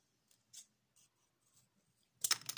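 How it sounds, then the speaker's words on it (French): Scissors snipping through pieces of soap for a flowered soap kit, a few quiet isolated cuts followed by a louder, closer burst of crisp snips at the end. "je vais essayer de couper des morceaux quand même qui dépassent un peu du truc"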